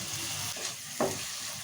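Green chilli pieces and chopped tomato frying in a pan while being stirred, a soft steady sizzle with a brief scrape of the spoon partway through.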